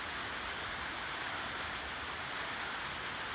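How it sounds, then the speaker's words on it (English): Steady rain falling outdoors, a constant close hiss of even loudness throughout with no talk. "Man, it's raining."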